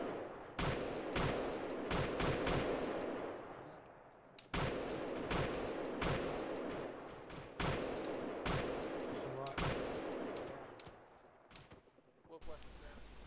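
Heavy gunfire in the military game ArmA 3 on the Sahrani map, dense automatic bursts and sharp reports repeating across the whole stretch, loud and close, with voices talking at times.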